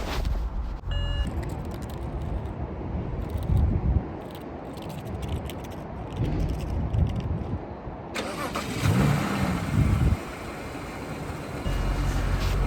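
A 2007 BMW 335i Cabriolet starting up, heard as cranking followed by a steady engine idle that swells at intervals, close by and moderately loud, with no talking.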